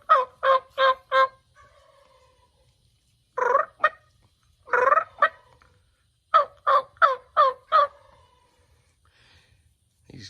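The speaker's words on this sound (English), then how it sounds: "See if we can make that turkey gobble." A turkey gobbles in loud, close bursts: a rapid run of four gobbles, two more a little later, then another quick string of five, with quiet pauses between.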